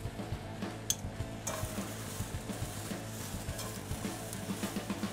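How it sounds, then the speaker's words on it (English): Red bell pepper and mushroom sauté in a pan, a soft steady sizzle with scattered stirring clicks and light utensil taps against the pan throughout. "We're just going to let this saute down, let those all cook up real nice together"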